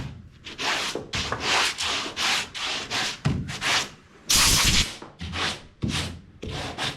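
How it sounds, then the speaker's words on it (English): Body filler on a 1970 Chevy is hand-sanded with sandpaper in long, steady rasping strokes, close and loud, each stroke a rough scraping sweep with short pauses between them. "Thing is, you just have to keep cleaning sandpaper out."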